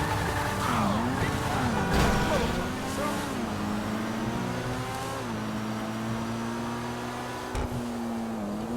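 A Pfister Growler sports car engine in Grand Theft Auto Online, modeled on a Porsche Cayman, revs and shifts, pitch rising and dropping through gears, steady and fairly close with a faint voice underneath.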